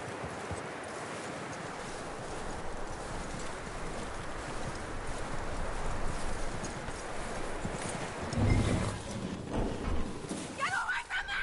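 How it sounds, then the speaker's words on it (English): Steady clip-clop of horse hooves plods on through a noisy outdoor scene in Red Dead Redemption 2, with brief voices and other sounds breaking in near the end. "That looks like a decent horse."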